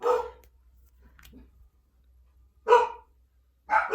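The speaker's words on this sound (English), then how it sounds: "Somebody must be walking by, or there's dogs, because that's when she barks." A dog indoors gives three separate barks, the first short and sharp, the others as quick doubled bursts, close and fairly loud over a quiet room with a low hum.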